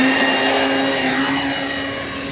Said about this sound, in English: we're gonna do a maiden takeoff